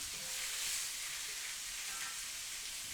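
Garlic sizzles and fries steadily in a hot pan while lamb chops with cilantro rice are being made, a continuous close, even crackle with no talking.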